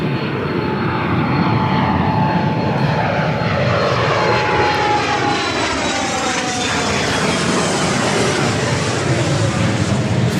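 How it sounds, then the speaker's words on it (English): A Challenger 350 business jet takes off from LAX with a loud, sustained engine roar that fills the whole stretch, its pitch slowly sliding as it passes, with no talking over it. "Challenger 350 taking off to Manassas"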